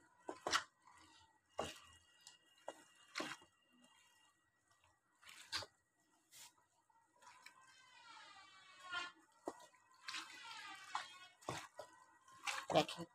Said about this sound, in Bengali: দিয়ে দিয়েছি কেটে ধুয়ে রাখা শিং মাছগুলো আমি মশলার সাথে খুব ভালোভাবে মাখিয়ে নিচ্ছি